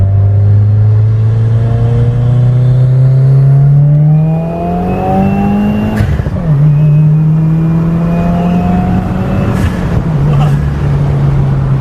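A Stage 2 tuned, catless Subaru WRX engine roars as it accelerates hard, its pitch climbing through several gear changes with a loud intake whoosh, steady and close.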